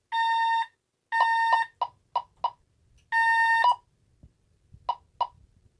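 A Tyco/ADT Safewatch Pro 3000EN alarm system sounds loud, close tone bursts: two long steady blasts, a run of short beeps, another long blast, then two more short beeps, with quiet gaps between.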